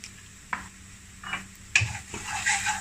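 Coriander, cumin, red chili powder and turmeric sauteing in a pan for Nepali tomato momo chutney: a few scraping stirs of a spoon against the pan over a soft, steady sizzle, close and fairly quiet.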